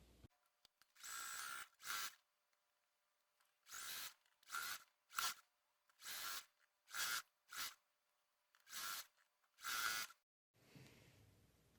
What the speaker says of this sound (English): I'm going to sew a 1/4 inch seam all the way down